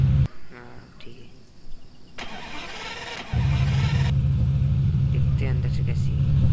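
An Audi V8 two-seater in a video game settles into a loud, steady low engine idle after a brief start-up rumble, running continuously to the end under a voice talking over it.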